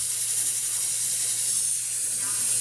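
A pot of pork spareribs kaldereta hisses steadily while cooking over low heat, a continuous close, loud steam-like sizzle.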